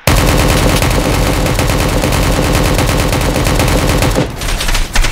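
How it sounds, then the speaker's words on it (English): Rapid, sustained AK rifle fire in the video game Project Delta, loud and close, with dense bursts running for about four seconds before a brief pause and a few final shots. "my AK has so much recoil"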